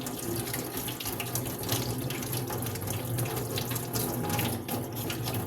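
Tap water runs steadily into a glass, a continuous close splashing gush that holds at an even level throughout, with no voices over it.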